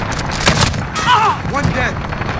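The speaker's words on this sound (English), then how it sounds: "Enemy cluster strike incoming." Cluster strike explosions and gunfire in the game Modern Warfare: a rapid string of sharp bursts and booms at moderate loudness, with announcer voice lines heard over the action.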